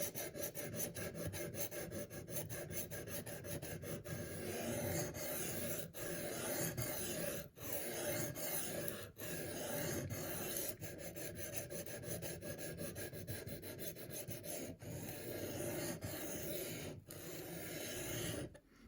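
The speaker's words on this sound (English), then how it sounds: "That was just me wiping off the stone a bit." A knife sharpening stone being wiped off by hand, quiet rhythmic rasping strokes with brief pauses, close and faint.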